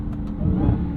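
A 717-horsepower 2023 Dodge Charger SRT Hellcat Jailbreak gives a brief, close engine rev, a quick throttle blip rising during a downshift.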